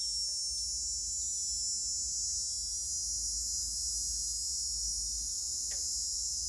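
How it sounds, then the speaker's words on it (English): A steady, dense high-pitched chorus of calling frogs or insects fills the night air, constant and uniform, with a low rumble underneath and no voices. "You can still hear the frogs though."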